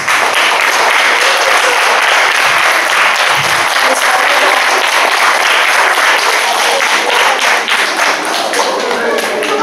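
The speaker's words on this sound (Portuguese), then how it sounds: "Palmas." A crowd breaks into loud, sustained applause, dense clapping filling the whole stretch without pause.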